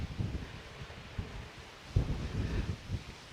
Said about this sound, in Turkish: şu anda burada çok fazla rüzgar var